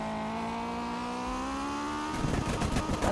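A race car driving in a Roblox video game: a steady, climbing engine whine holds for about two seconds, then breaks into a rougher, choppier roar.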